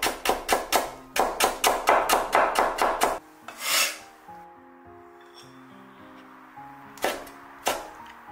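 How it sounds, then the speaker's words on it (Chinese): Knife slicing ginger on a cutting board: a quick run of about a dozen crisp, evenly spaced chops close by, then a pause, a scrape, and a couple more isolated cuts. "生姜我们也给它切片"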